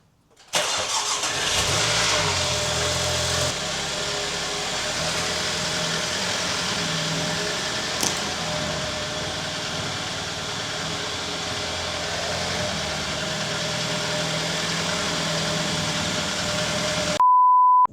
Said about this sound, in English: now I'm gonna go ahead and start the car and see if it actually drives